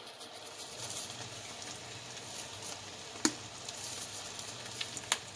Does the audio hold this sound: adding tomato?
yes